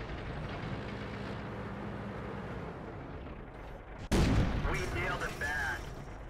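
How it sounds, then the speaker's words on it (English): An M48A1 tank in World of Tanks fires its cannon on the move, one sharp loud boom cutting through the rumbling engine noise, with someone talking over it. "So there we go, firing on the move at the ST1."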